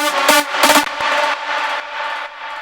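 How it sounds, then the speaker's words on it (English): Main drop lead synth from a track: a bright, dense, harmonically rich lead with two sharp stabs early on, then a sustained sawtooth-like tone, loud and upfront with no voices. "So first we have the main drop lead."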